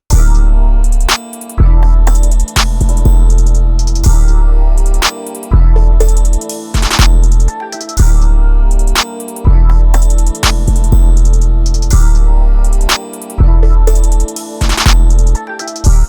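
A looping trap beat with deep bass hits, crisp rapid hi-hats and scattered percussion, played loud with brief drop-out gaps every couple of seconds.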